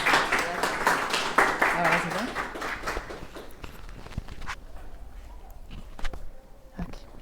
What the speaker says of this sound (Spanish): nosotros de costumbre recibimos a nuestros invitados con un aplauso